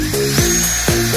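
Drill motor whining as it bores into a metal profile during a comparison of a cordless drill against a corded electric drill, steady high tone with two brief dips in pitch, close and loud with no talking.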